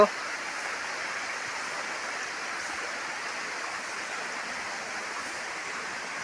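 Flowing water of a stream at a temple, a steady, even rushing wash that holds at one level throughout with no other sounds over it.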